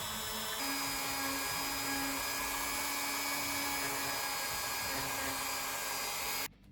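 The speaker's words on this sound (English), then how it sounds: "with the help of a Dremel remove some clay from the inside of the head" Dremel rotary tool grinding clay out of the inside of a sculpted head, giving a steady high-pitched whine that holds for several seconds and then cuts off abruptly near the end.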